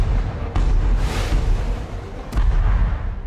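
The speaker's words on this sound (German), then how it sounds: "Die großen Kanonen feuerten auf Ziele in weiter Entfernung" Large artillery guns firing at distant targets during a Second World War battle, heavy booming blasts with rushing whooshes and rumble, loud and close over a constant roaring background.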